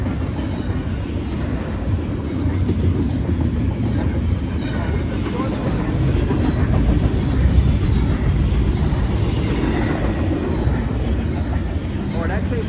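A BNSF freight train hauled by Union Pacific and Canadian Pacific locomotives rolls past, a steady loud rumble of wheels and cars holding throughout and swelling slightly midway, with a person talking over it.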